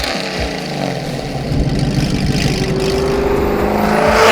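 A supercharged 2024 Mustang GT with a Corsa Xtreme cat-back exhaust, sport mufflers and a double H-pipe revs loud and close, its rumble building steadily in volume.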